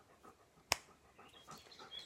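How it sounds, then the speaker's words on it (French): A dog, recently rolled in something, pants softly and close by while being pushed aside, with one sharp click partway through. "je pousse le chien parce elle s'est roulée dans un truc tout à l'heure"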